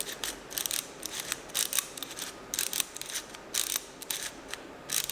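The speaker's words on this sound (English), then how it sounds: "You simply just push this in and it turns the screw." A push-style ratcheting screwdriver driving a screw, giving repeated quick mechanical clicks and ratcheting bursts in irregular pulses, close and fairly clear with no talking.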